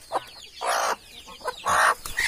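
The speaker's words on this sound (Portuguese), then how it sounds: "Ele segurou a galinha." A hen held in someone's hands clucks in two loud, close bursts with a few softer clucks between them, and there is no talk.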